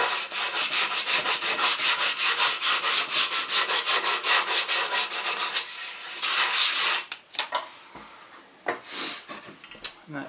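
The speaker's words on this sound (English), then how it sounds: "And then just a little bit of sandpaper." Sandpaper is rubbed by hand over wood for a patio chair in quick, rhythmic back-and-forth strokes, followed by a few scattered scrapes and light knocks.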